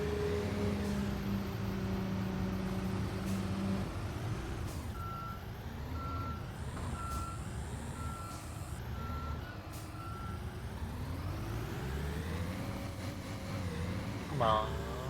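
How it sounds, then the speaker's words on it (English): Reversing beeps from an electric Volvo truck in Construction Simulator, a steady series of evenly spaced electronic tones repeating over a continuous engine and machinery drone. "we've got them electric Volvo trucks at the moment"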